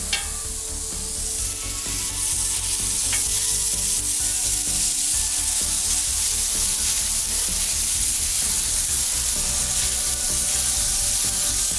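Smashburger beef patties and onions sizzle hard on a hot pan with a dense, loud, continuous hiss and crackle, close up, with occasional scraping and no speech.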